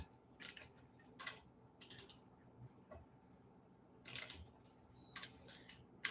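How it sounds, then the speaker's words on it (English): Bolts are tightened during assembly of a RadRunner 2 e-bike, heard as faint, close bursts of quick ratcheting clicks repeated several times with short pauses between them in a quiet room. "we're just tightening these bolts up"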